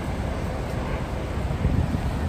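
Turbulent Niagara River water rushing above the falls on a cold day, a dense, steady broadband roar close to the microphone with some wind buffeting mixed in.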